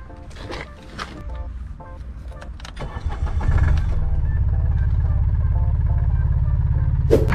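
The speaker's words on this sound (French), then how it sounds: "On va de suite tester pour voir si le moteur fait beaucoup de bruit." The small diesel engine of a Ligier JS60 Ultimate microcar, hood open, cranks and catches after some clunks, then settles into a steady, rattling idle close by.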